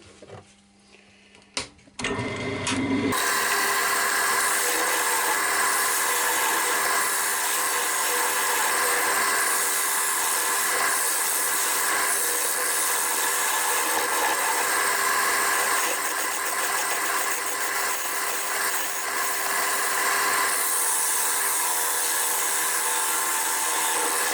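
A padauk wood box being hollowed out on a lathe: a few quiet knocks, then a steady machine whine and hum with a broad, continuous cutting hiss, close and unbroken, with no talk.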